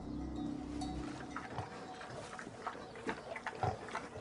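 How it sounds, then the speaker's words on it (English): Domestic pigs grunting and oinking in a farmyard, several short snorts scattered over a low, steady rumble, fairly close and with no talk. "Pigs and cows, sheep and goats, domestic animals."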